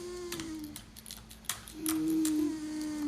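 Typing on an Apple Magic Keyboard: a run of light, irregular key clicks at close range over a steady low hum, with no talking.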